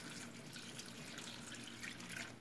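Water poured into a pot for a one-dish pasta, a continuous soft splashing trickle that stays fairly faint and even throughout, with no talking.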